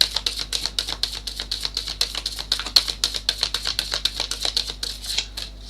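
Tarot cards are shuffled over and over, a quick, even run of crisp riffling snaps that carries on steadily, close and moderately loud with no talking.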